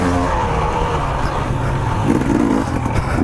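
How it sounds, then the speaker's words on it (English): A GasGas motorcycle engine on a race track, holding a steady, loud, buzzing drone under hard throttle as the bike slides through a lap, with no talk. "I'm just like hitting the gas and just sliding out."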